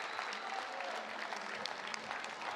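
A crowd at a Beach Pro Tour 2025 beach volleyball match in Ostrava applauds steadily, a dense wash of clapping that carries on through the whole moment.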